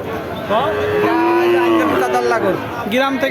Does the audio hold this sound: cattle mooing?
yes